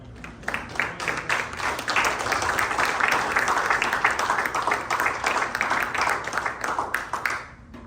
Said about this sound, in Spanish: Un aplauso a la gloria del Señor